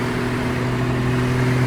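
A cheap turbocharged car's engine drones at high RPM while driving at around 55, a steady, loud mid-pitched hum with a constant tone and no voices.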